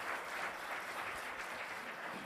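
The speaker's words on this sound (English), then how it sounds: "A round of applause for her." Steady, fairly faint audience applause welcoming a speaker at an academic alpaca forum, continuous clapping throughout with no voices standing out.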